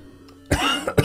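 A person coughs during a livestream of The Legend of Zelda, with a faint bump early on and then one long, harsh, rough cough burst followed by a shorter, sharp second cough. The sounds are close and loud against quiet room background.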